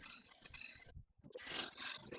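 A band file sanding the edge of a cut roof fan hole in a Sprinter van, raspy back-and-forth scraping strokes close by, with a brief pause midway and no talk.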